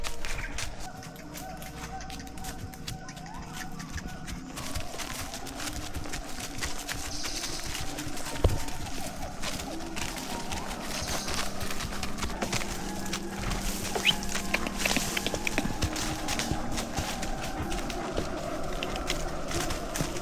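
Patrol horses walk through Sumatran forest, their hooves tapping and clopping at a moderate distance over a steady bed of outdoor ambience, with an occasional sharper knock standing out.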